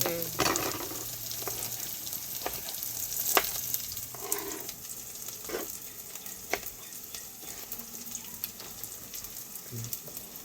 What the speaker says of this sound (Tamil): உருளைக்கிழங்கு சேர்த்து தானே போடுறேன் வறுவல் மாதிரி